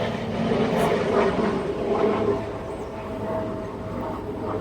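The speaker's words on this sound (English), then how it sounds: "Another airplane." An airplane flies overhead as a faint, steady, distant rumbling drone that swells slightly and then eases off, with no talking.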